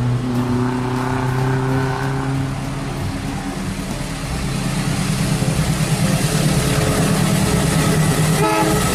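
A toy Kereta Api Indonesia locomotive pulling its wagons runs steadily, with a continuous loud rumble, clattering wheels and horn-like tones held throughout.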